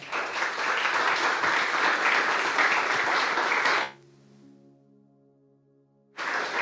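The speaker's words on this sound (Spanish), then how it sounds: "Démosle un aplauso al Señor." Congregation at a praise and worship service clapping for the Lord, a loud sustained burst of applause that cuts off abruptly partway, leaves a short quiet tonal lull, then swells back in at the end.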